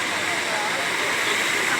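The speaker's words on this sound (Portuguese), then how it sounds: "depois que para de chover, começa a cair água de cima da casa" Rainwater pouring off the roof of a house after a rainstorm in Montes Claros, Minas Gerais, a steady broadband rush of falling water that stays constant and fairly loud throughout.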